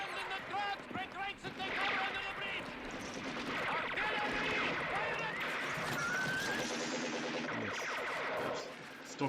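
Horses whinny and hooves clatter within a dense, loud soundtrack from the 1971 film A Fistful of Dynamite, with voices talking over the action throughout.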